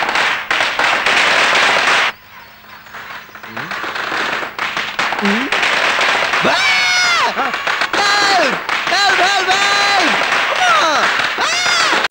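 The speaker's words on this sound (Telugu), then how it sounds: "దీపావళి కాదు కానీ క్రాకర్స్ పేలుతుంది" A rapid, loud string of firecrackers bursts in a residential colony. After a brief lull the crackling resumes, continuing under voices and shouting.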